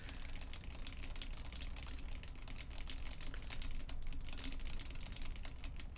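Typing on a Sirius 60 mechanical keyboard with a carbon fibre plate, a steady, dense stream of soft clacky keystrokes, close and fairly quiet, with no talking.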